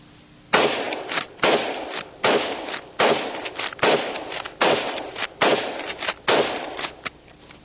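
Repeated shots from a lever-action big game rifle, about seven loud sharp reports spaced roughly a second apart in a steady rhythm, each followed by a brief decaying echo, no talking.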